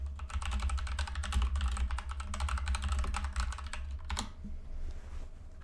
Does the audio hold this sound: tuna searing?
no